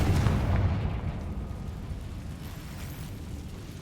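A Confringo fire spell explodes in the Hogwarts Legacy game, a loud booming blast at the start that fades into a long rumbling decay.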